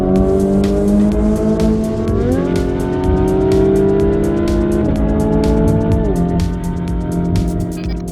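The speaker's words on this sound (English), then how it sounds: "I'm gonna get my car started and run over there right now" The engine of a twin-turbo Lamborghini Gallardo runs loud and close, its droning pitch stepping upward in stages as it revs, with faint repeated ticking over the top and no voices.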